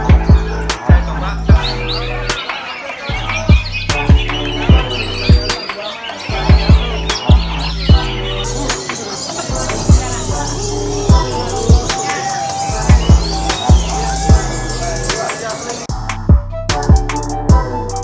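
A kolibri sunbird chirps in high, thin, scattered calls over a loud, steady rhythmic thumping beat that dominates the background throughout.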